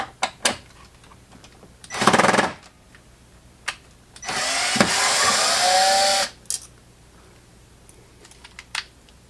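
A power drill drives a screw into a drawer rail on a Harbor Freight Windsor Design workbench, with two loud whirring bursts, a short one and then a longer steady one, between scattered clicks and handling knocks.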